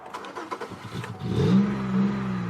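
A cold 2002 Chevy Malibu engine cranks and catches, its tone swelling as it fires up and then settling into a steady, close idle hum after a quieter lead-in.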